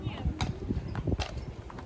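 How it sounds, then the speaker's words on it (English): Horse hooves clip-clop on a hard surface in an irregular walking rhythm, nearby, with people talking over them. "such a beautiful horse."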